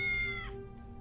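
A cat meows once in the video game Tales of the Neon Sea, a short, clear, high-pitched cry that slides downward and fades within half a second over a low steady hum.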